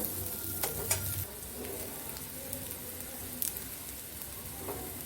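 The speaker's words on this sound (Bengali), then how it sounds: "দেখো চালটা আমি ভেজে নিচ্ছি ব্রাউন কালার করে" Rice frying in a pan until browned for Bengali murighanto, a steady close sizzle and crackle with occasional sharper pops and stirring scrapes, no talking.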